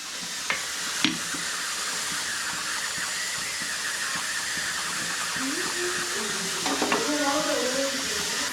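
Pressure cooker fitted with a bowl in place of its whistle weight, steaming pitha with a constant broad hiss of steam throughout, a few faint clicks and a voice speaking briefly toward the end.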